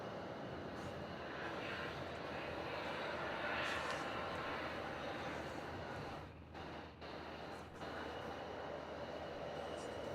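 An Emirates A380 airliner takes off at Melbourne Airport at night, a steady broad engine roar filling the whole stretch, loud and fairly close, with a brief dip partway through before the rumble resumes.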